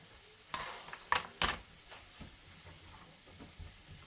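Green beans tipped into a hot pan for a budget savoury rice, giving a few sharp rattling, hissing bursts close by, then settling into a quiet low sizzle with no talking.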